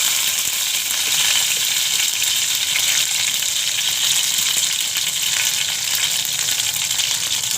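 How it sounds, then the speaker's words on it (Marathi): Mustard seeds, cumin and curry leaves sizzle loudly in hot oil as tempering for besan dhokla, a dense, continuous crackling hiss close by with no speech. "राई टाकते, थोडंसं जिरं, कढीपत्ता टाकून घेते."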